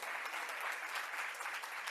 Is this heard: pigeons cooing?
no